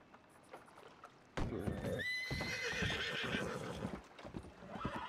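A horse in a western video game gives a loud whinny over the steady clip-clop of its hooves, close by, with the trotting continuing after the neigh.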